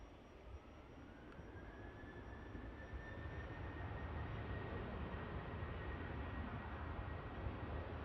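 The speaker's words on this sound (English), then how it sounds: "Ryanair on the departure roll." A Ryanair jet on its departure takeoff roll at Manchester Airport makes a sustained distant engine roar with a faint rising whine, steady and fairly quiet throughout, with no voices.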